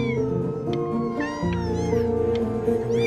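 Several cats meow in the video game Before Your Eyes, with overlapping, drawn-out, wavering cries that are clear and close, running continuously throughout.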